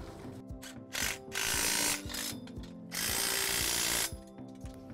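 A ratchet tightens U-bolts on the vertical head bracket of a Drago GT 8-row corn head, loud close clicking runs broken by two longer, steadier bursts of rapid ratcheting.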